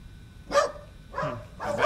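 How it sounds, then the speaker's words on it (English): Several dogs bark in short, separate bursts, about three loud yaps spread over two seconds, close by and with no talk in between. "Oh, the dogs are going crazy."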